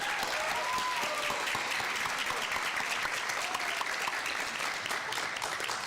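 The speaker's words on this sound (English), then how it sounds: "Let us give them another round of applause." Sustained applause from a graduation audience after a stage performance, steady and full for the whole stretch, with a few faint voices or whoops rising over the clapping.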